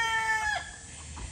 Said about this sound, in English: You see that rooster? That's my Easter egger rooster right there.